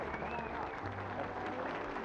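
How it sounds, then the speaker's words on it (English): Applause from a show audience, a dense steady patter of clapping that carries on throughout, with a voice faintly audible underneath. "Let's have a big round of applause for Shelly Fabres"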